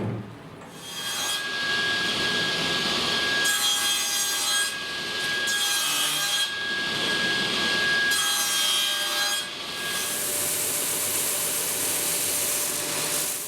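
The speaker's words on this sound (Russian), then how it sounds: "шлифуем кромку." Sanding the edge of a wooden end-grain chessboard, heard as long back-and-forth abrasive rubbing strokes, close and steady, with brief pauses between passes.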